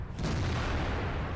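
A tank cannon shot in the World of Tanks video game: one sudden loud boom followed by a heavy, rumbling roar that keeps ringing for over a second.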